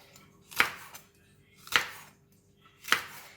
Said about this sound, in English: How we cut the okra is to just cut it slanting